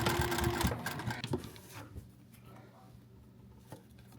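A Juki TL 2000 Qi sewing machine stitches through thick fabric with a fast, rattling run of needle strokes that slows and fades into a few sparse clicks.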